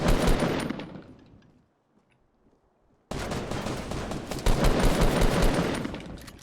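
Rapid automatic gunfire in a Fortnite gunfight, loud bursts that fade out, a couple of seconds of near silence, then another long, heavy barrage of shots.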